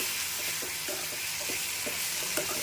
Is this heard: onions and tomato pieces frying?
yes